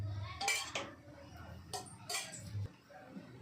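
A metal kadai is set down and handled on the stove for a curry, making a few close clanks and scraping clinks in a quiet kitchen, with no voices.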